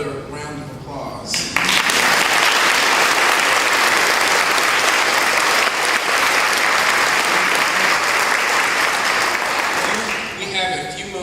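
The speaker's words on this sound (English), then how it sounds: "Let's give her another round of applause." A loud, sustained round of applause from a lecture audience, starting after brief speech and fading as a voice returns.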